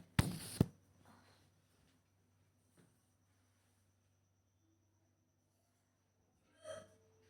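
A single sharp hiccup bursts out loudly at the start from a person teaching a class, followed by near silence and a faint breathy sound later.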